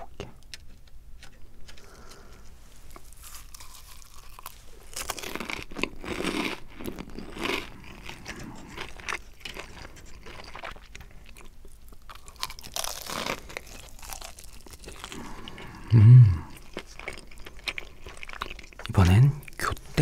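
Crisp crunching bites and chewing of crispy fried chicken dipped in salt, close to the mic, in bursts separated by quieter pauses.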